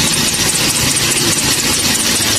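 Toyota Vios engine running with a worn drive belt, giving a steady, loud, dense mechanical drone with constant vibration close by and no voices.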